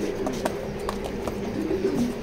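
Racing pigeons cooing in a loft, low repeated soft coos close by over a faint background hum.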